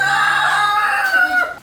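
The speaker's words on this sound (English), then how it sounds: "These are big boy cockerels." Big cockerels crow close and loud in one drawn-out, falling cock-a-doodle call, with a brief cluck-like break near its end.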